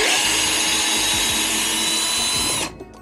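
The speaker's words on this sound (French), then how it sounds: "Je visse ce côté-là." A power screwdriver drives a screw into one side of a wooden clog in a workshop, a loud continuous whirring burst that runs almost three seconds, then stops abruptly into quiet room noise.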